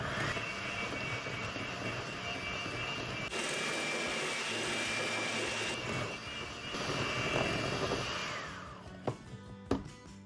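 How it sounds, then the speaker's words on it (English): An electric mixer beats unsalted butter and sugar for a caramel cake batter, giving a loud, steady motor whir that changes pitch partway through and winds down with a few knocks near the end. "we're going to mix up some unsalted butter and sugar until light and fluffy"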